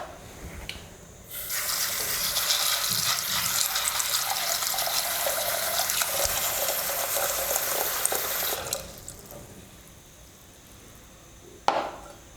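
Water runs steadily from a tap into a cooking pot for lentils with apples, a loud continuous rushing pour lasting several seconds before it stops, followed by a brief clatter.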